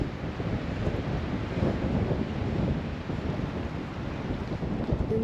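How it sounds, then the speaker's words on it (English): Cold wind blowing steadily across an open outdoor site near a cemetery, a constant rumbling buffet on the microphone with no voices, moderately loud and unbroken throughout. "that wind is cold."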